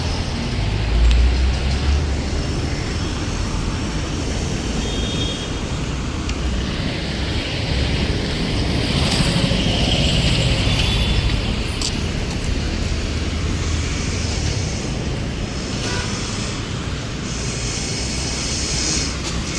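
Steady road traffic roars past on a morning road with big buses and trucks, a continuous loud rumble of heavy vehicles with brief swells as they pass nearby, no talk.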